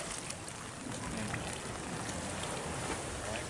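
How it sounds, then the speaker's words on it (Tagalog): A dense, even hiss of heavy rain pours down without pause, steady and loud throughout. "Malakas ang ulan."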